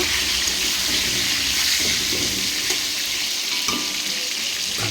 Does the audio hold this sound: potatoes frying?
yes